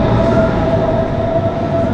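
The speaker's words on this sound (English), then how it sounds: "we just made our train on time" Loud continuous rumble of a train at a Munich station, a steady low rolling roar with a faint tonal whine, close and without speech.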